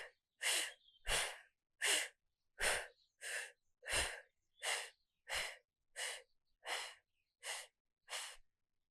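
During a yoga core brace hold, a person breathes in a steady rhythm, about a dozen short, airy breaths spaced evenly, close and quiet with silence between them.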